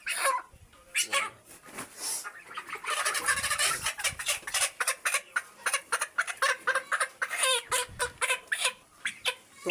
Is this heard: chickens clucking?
yes